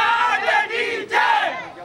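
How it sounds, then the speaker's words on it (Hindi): Loud crowd at a cricket match in the HRPL season 3 league, cheering and shouting in a sustained roar that dips briefly twice before surging again. "जोरदार तालियां होनी चाहिए, जबरदस्त प्रदर्शन"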